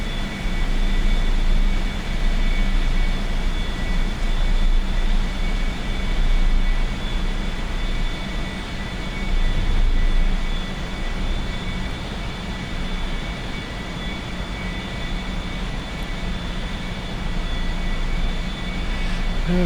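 A-4E-C Skyhawk jet climbing in the DCS flight simulator, its engine a loud, steady, droning roar with a constant whine on top, unbroken and close throughout.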